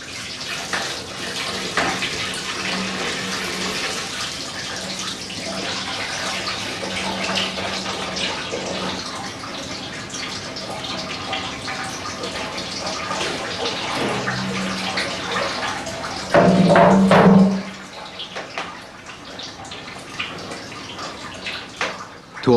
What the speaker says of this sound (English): After every pressing, the big cauldron is refilled.